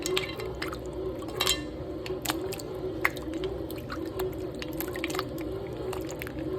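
Homemade butter is swished around in a bowl of water with ice cubes, giving soft sloshing and squishing with scattered clicks and drips over a steady low hum.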